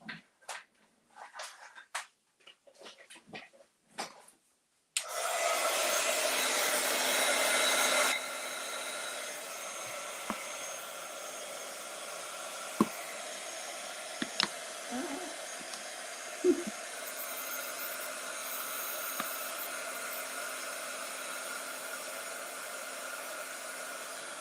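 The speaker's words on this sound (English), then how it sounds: "I do have my dryer down here. Let's see if I can plug that in." After some handling clicks, a hair dryer switches on with a loud blast, drops to a steady lower roar, and keeps blowing with occasional knocks.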